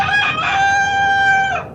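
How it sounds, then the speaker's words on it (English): A rooster crows in one long drawn-out call, loud and close, with a brief clucking start and no voices over it. "Oh, my God, what's that bird doing here? It's a chicken."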